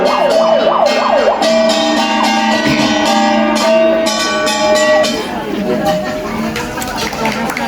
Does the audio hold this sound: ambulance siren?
yes